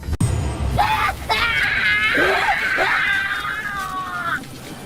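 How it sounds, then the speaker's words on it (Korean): In a comic dub, shrill screams echo with a reverberant wash. A loud thud opens the sequence, and a long, wavering high scream sustains over babbling voices and splashing noise. "듣기 싫은 비명이 사방에 메아리쳤다."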